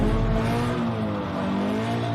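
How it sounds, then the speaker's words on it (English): A supercar's engine roars loud and close with a strong, steady droning tone as the clutch is dumped for a burnout, holding a sustained high rev throughout. "Dump the clutch like a burnout."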